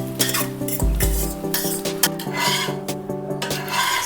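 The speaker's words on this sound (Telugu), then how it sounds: "ఇంకా ఈ రైస్ కూడా, కుక్ చేసిన రైస్ కూడా వేసి మిక్స్ చేద్దామండి" Cooked rice stirred with ghee in a metal pan for restaurant-style egg fried rice, with repeated close scraping and clinking of a spoon against the pan over a steady background of music.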